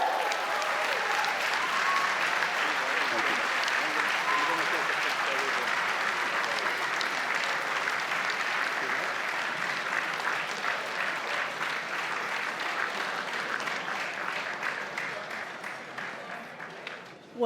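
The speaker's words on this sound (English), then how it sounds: "A great cheer from the audience." A large audience at an annual business awards ceremony applauds an award winner, sustained dense clapping and cheering that holds steady for many seconds and then tapers slightly near the end, with faint voices mixed in.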